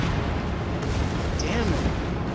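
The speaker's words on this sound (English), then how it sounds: "These guns at close range are pretty devastating." Cruiser guns in World of Warships boom at close range, a dense, heavy rumble of naval cannon fire and explosions filling the short stretch, with a player talking over it.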